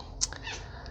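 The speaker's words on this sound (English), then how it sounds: "And that was my cat just saying" A pet cat gives a short, mid-pitched meow near the microphone, a single brief call over a low steady background hiss, with a faint chirp following soon after.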